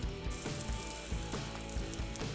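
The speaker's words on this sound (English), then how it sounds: "you see it sizzling just like that" T-bone steak sizzles on a charcoal grill, butter and fat dripping onto the coals, giving a steady crackling hiss with soft low thumps and no voices.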